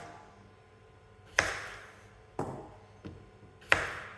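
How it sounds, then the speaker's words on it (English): Four sharp chops of a knife cutting potatoes on a cutting board, spaced irregularly, close and crisp against a quiet room. "always chopping down towards the board, using the bridge or claw."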